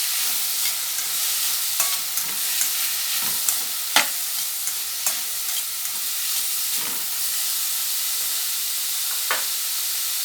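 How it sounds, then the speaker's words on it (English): Carrot, cucumber and sweet pepper being stirred in a hot frying pan: a steady, close sizzle runs throughout, broken by irregular spatula scrapes and soft knocks, with no voices. "Give them a stir."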